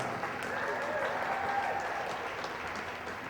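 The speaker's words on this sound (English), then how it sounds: "let's hear a big round of applause for them too" A crowd gives sustained applause for the English players at an Australia versus England match, steady clapping throughout with a faint announcer's voice beneath it.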